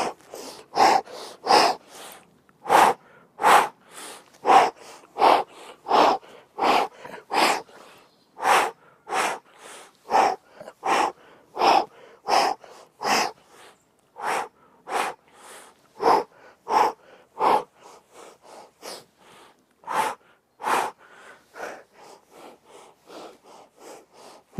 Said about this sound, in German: Schön atmen dabei.